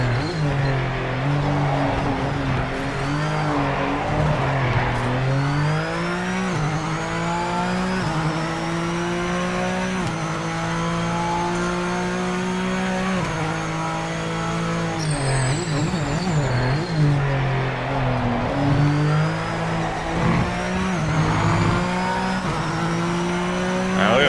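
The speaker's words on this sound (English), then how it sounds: "I can see the tires coming in and out of grip." A GT3 race car in a racing video game drones with steady engine harmonics while the tires squeal intermittently, slipping in and out of grip through corners; the sound is loud and continuous, with no talking.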